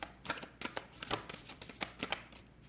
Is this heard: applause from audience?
no